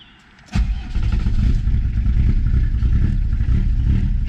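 After a brief moment of near quiet, a Peugeot 306 turbo diesel engine cranks and catches, settling into a loud, rough, clattering idle that runs steadily.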